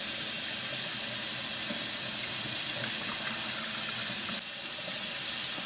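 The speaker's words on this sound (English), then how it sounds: "I just let the hot water run in there and wash out what little bit of grease is left." Hot water runs steadily from a kitchen tap into a greasy dish in a home kitchen, a continuous close splashing hiss with no talking.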